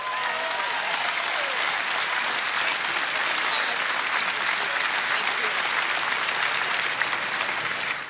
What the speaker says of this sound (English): Applause going for the Honorable Pat Grassley, State Representative.